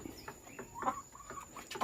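Laying hens in a poultry house cluck in short, repeated bursts as they compete for nesting spots, moderately close over a steady background hum.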